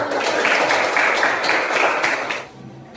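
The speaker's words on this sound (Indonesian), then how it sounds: "beri tepuk tangan" A classroom audience claps briefly after a group presentation, a short burst of fairly close applause that fades out abruptly near the end.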